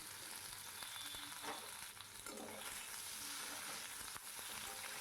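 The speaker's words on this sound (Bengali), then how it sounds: "যে আলুগুলো সেদ্ধ করে নিয়েছিলাম সেগুলো একটু ডুমডুমো করে কেটে ওই ফোড়নের মধ্যে ছেড়ে দিলাম" Boiled potato pieces tossed into hot oil with a frying spice tempering sizzle loudly and steadily, with occasional stirring scrapes and crackles close by, no talking.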